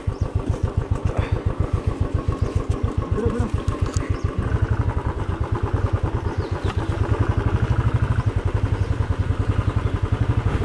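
A heavy 250 kg motorcycle rumbles loudly and close, its engine catching with a rapid pulsing idle before steady riding revs, the throb continuous throughout with no talk.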